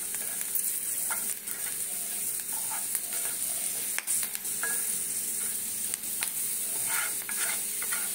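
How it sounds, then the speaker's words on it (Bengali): Chickpea dal frying in oil in a pan for a chaat with kabuli chana and potato, giving a continuous bright sizzle with intermittent spatula scrapes and taps, close up and without voices. "যেটুকু তেল থাকবে ওর মধ্যে ছোলার ডালগুলোকে ভেজে নেব"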